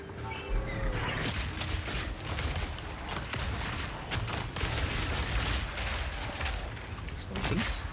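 Explosions in Path of Exile 2, a dense stretch of rapid bursts, crashes and booms layered over a continuous loud game soundscape, with talking at points.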